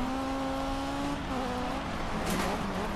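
Car engine in the Dirt Showdown racing video game drones steadily at close range, its pitch holding and then dipping slightly, with a brief brighter burst of noise near the end.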